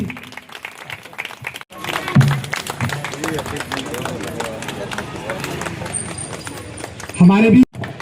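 Audience applause for a guest welcomed at a felicitation event for a labour welfare board vice-president in Raipur, sustained rattling clapping from a crowd, with a voice speaking over it through a loudspeaker.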